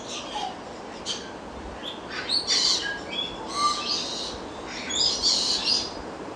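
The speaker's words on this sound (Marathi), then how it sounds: "अनेक पक्षी, बऱ्याच पक्ष्यांच्या प्रजाती इथे ठेवलेल्या आहेत." Several birds chirp and call in short bright bursts inside an aquarium park aviary, with calls scattered across the clip over a steady soft background hum.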